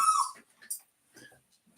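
A dog at a dog grooming business lets out a few brief, faint whimpers and yips with quiet gaps between them.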